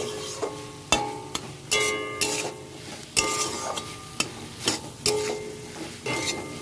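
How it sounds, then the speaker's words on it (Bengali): Okra curry masala sautéing in a pan, stirred with repeated metallic spatula scrapes and clinks against the pan roughly every second over a low sizzle, close and clear with no talk. "আবারও নেড়ে চেড়ে একটু কষিয়ে নিয়ে জল ঢেলে দেব"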